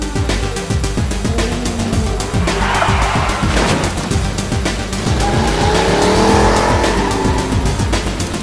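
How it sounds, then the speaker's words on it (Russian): An animated race featuring a huge cartoon vehicle, with loud engine roars that rise and fall and repeated sharp tire squeals and skids running through the whole stretch. "Что это за огроменная машина?"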